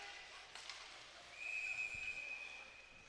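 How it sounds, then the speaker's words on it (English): A referee's whistle at a high school ice hockey semifinal, one clear, sustained blast lasting about a second over a low rink murmur and faint crowd noise. "And a whistle."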